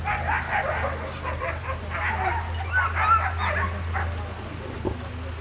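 Sled dogs at a husky homestead yip, bark and whimper in scattered bursts, slightly distant, over a steady low hum.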